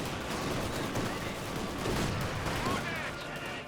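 Rifle gunfire in the Company of Heroes 2 video game battle, with dense overlapping shots and scattered pops forming a steady fusillade, low in level and mixed under general battle noise.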